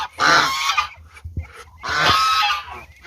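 Geese in a poultry pen give two loud, harsh honking bursts close by, separated by a short gap with a few soft thumps.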